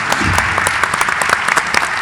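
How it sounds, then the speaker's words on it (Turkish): Audience applause at a gastronomy conference panel in Antalya, a brisk burst of many hands clapping, close and loud throughout the short stretch. "bir alkış rica ederek teşekkür ederim."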